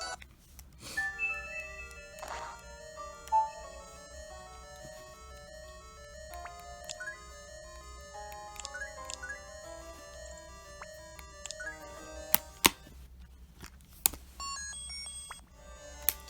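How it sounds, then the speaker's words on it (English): A quiet, chiming electronic Zelda home menu theme on the Nintendo 3DS with bright plinking notes, plus a few short whooshing open and close effects near the end. "This one, I believe, does have an open and close sound effect."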